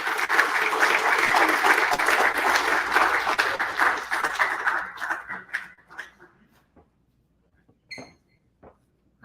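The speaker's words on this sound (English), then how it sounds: "Please give a round of applause." An audience at an NFT education event bursts into loud, dense applause that holds for about five seconds and then thins into scattered claps before going quiet.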